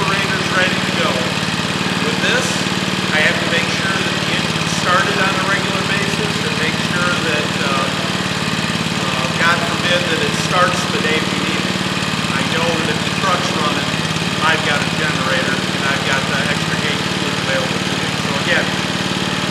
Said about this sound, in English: I have to make sure that the engine's started on a regular basis.